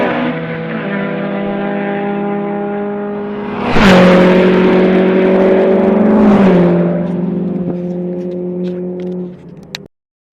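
Race cars at Snetterton circuit sweep past one after another, loud engine drones rising to a sharp peak as each one flies by, then fading away.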